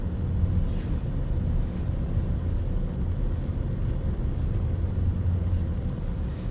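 A car on the Icefields Parkway mountain highway on a warm day gives a steady low rumble of engine and road noise, continuous and even, with no talk.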